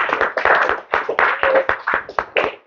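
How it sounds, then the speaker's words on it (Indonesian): A classroom of students claps at the end of a lesson. Sharp, close handclaps come in uneven bunches, about a dozen distinct claps in under three seconds, with no talking over them. "Tepuk tangan dong."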